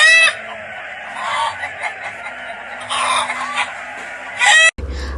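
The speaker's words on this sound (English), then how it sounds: "Both chickens were released at the middle of the arena." Gamecock roosters in a cockfight, staged as a radio drama effect, crow and cluck loudly in several bursts, ending in a sudden cut to a low rumble.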